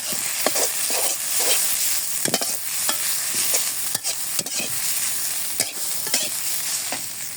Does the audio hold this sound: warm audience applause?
no